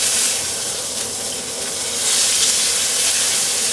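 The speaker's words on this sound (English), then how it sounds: "The steak's quite thin, so it doesn't take that long to cook." A thin Wagyu steak cooks in a pan inside a wooden cabin, giving a steady, close, bright sizzle and hiss that swells slightly partway through, with no talking.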